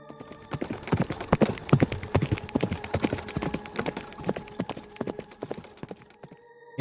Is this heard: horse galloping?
yes